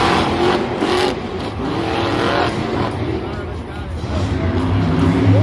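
Monster truck engines roar and rev continuously during a Monster Jam stadium race in Denver, Colorado, featuring Big Kahuna against Scarlet Bandit, loud and sustained with a commentator talking over them.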